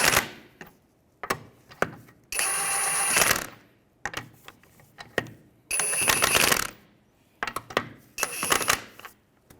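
An impact tool or ratchet tightens wheel lug nuts on a 2015-2019 Hyundai Sonata in a crisscross pattern, giving several short bursts of loud mechanical whirring separated by sharp clicks and brief pauses, close up.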